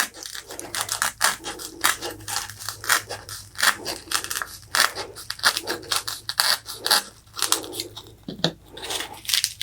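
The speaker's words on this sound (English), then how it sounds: "And I'm just using a craft knife." A craft knife cuts the top off a Dollar Store Christmas craft ball with rapid crunchy scraping and snapping strokes that run almost without a break, loud and close.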